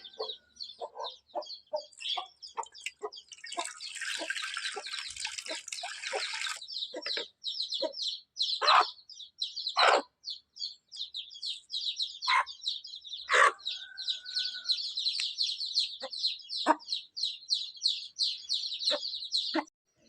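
Chickens cluck and chirp repeatedly at close range, with a rooster-like call and busy bird chatter throughout, and a burst of hissing noise midway.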